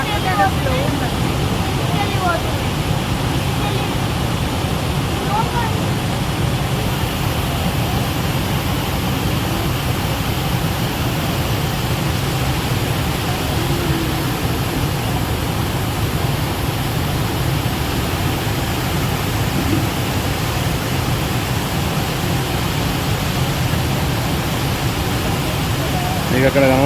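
The Manjira river flows at the Edupayala temple, a constant broad rush of moving water that is loud and steady throughout, with a low rumble underneath.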